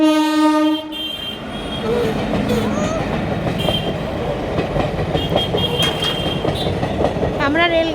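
A train rolls past a railway level crossing where traffic waits, opening with a loud horn blast and then steady wheel clatter and rumble close by, with brief squeals and faint voices mixed in.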